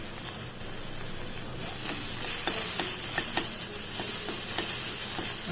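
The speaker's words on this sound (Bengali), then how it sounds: "ভেজে নিচ্ছি" Chopped ginger and garlic fry in hot ghee for chicken lollipop, a steady close sizzle with scattered crackles and the scrape of stirring, no voices.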